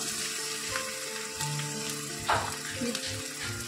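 Ginger-garlic paste frying with onions in a pan for a rohu fish dum biryani, a steady close sizzle with brief stirring scrapes and spits, no talk.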